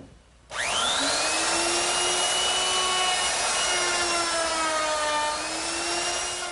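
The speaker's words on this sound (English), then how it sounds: "now I'm ready to round over the edges on my top. And for that, I'm going to use a 1/2 inch rounding over bit." A router fitted with a 1/2 inch round-over bit spins up to a high steady whine and cuts along the edges of a wooden trestle tabletop, with loud continuous routing noise that shifts slightly in pitch as it moves.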